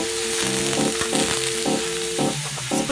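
Chicken gizzards sizzle and fry in a pan, a steady close crackle with rhythmic bursts of stirring or scraping over the constant hiss.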